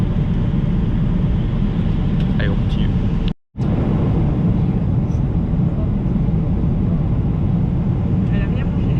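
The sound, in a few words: airplane cabin noise during flight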